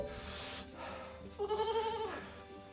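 Goats bleating inside a warm, bedded farm shelter, with a soft call early on and then a louder, wavering bleat near the middle, close by against quiet rustling.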